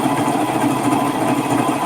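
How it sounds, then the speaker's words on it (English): A Viking Emerald 118 sewing machine stitching through three layers of denim at a jean seam, a loud close steady whirring hum with a fast even needle rhythm throughout. "And now I'm going to sew through those 3 layers."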